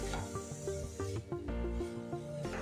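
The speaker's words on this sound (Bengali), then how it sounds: "গাজরটা বেশ কিছুক্ষণ নাড়াচাড়া করে নেব।" Grated carrot being stirred and scraped in a pan, soft repeated rubbing strokes with a faint sizzle, quiet and close, with a steady tonal hum in the background.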